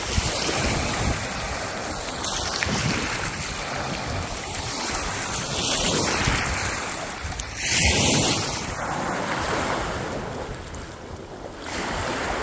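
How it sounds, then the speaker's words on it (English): Choppy sea waves wash and surge at a beach, a continuous loud roar of surf mixed with gusty wind buffeting the microphone, with no voices. "Choppy water, the waves"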